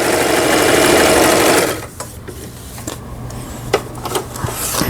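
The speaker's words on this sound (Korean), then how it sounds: "여기 보시는 바와 같이 오버록 스티치 각종 기능들 정상적으로 박음질이 되는 엘라미싱의 1010이라는 제품" An Elna 1010 household sewing machine runs an overlock stitch with a loud, steady mechanical whirr for nearly two seconds, then stops, leaving faint handling clicks and rustles.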